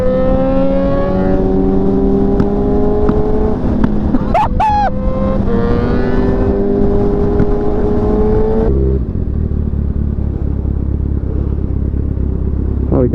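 Motorcycle revving hard on a highway ride, exhaust loud and rising through gears with brief crackles, then settling into a lower steady drone.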